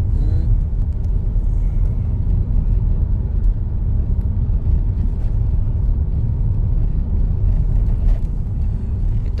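A new vehicle is driven, and its engine and road noise give a continuous low rumble heard from inside, loud and fairly steady, with small clicks and knocks now and then.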